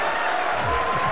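Evo 2013 tournament crowd cheering and applauding Infiltration's win in Super Street Fighter 4 AE, a dense steady roar of many voices filling the hall, with a commentator talking over it.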